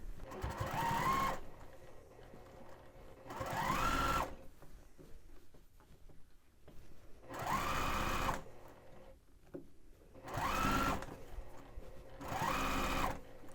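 A sewing machine stitches a shirt to its collar band in five separate runs of a few seconds each, its motor whirring up and down at close range, with short quiet pauses between runs while the fabric is repositioned.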